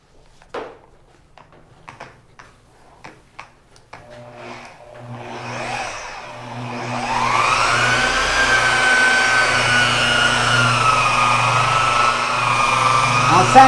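Mirka dual-action polisher working car paint with compound: a few scattered soft knocks, then the motor spins up and holds a steady, loud whirring drone with shifting pitch, close by.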